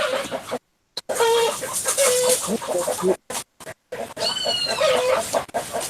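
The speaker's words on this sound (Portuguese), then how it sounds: "Olha que legal, eu tô ouvindo Tem até galinha" Chickens cluck and squawk repeatedly in the background of a recording, with irregular, fairly loud bursts broken by a few short dropouts.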